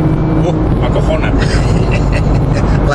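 Nissan GT-R engine accelerating hard from inside the cabin, a steady loud roar with rising drone and road noise filling the whole stretch, with no voices over it.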